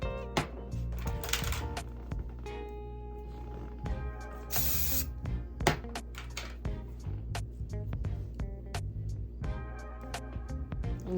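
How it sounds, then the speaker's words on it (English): Several short hissing sprays of hairspray burst out in quick succession over a busy, cluttered background, one longer spray standing out near the middle. "spraying generous amounts of hairspray, especially on the ends"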